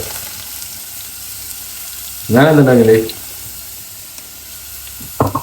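Mustard seeds sizzle in hot oil with a steady, soft crackling hiss throughout, while a person briefly speaks over it midway.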